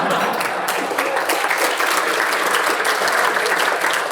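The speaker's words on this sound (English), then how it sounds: "go ahead and recognize yourself and applaud" Audience applause at a community foundation honoring event: a dense, steady wash of clapping from a sizable crowd, sustained and even throughout without any voices.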